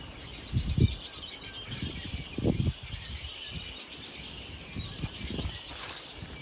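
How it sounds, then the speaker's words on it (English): Birds call and chirp around a swampy fishing bank, a busy mix of high calls over a steady insect-like hum, with low thumps and patters in the near field and no talk. "the birds were going nuts"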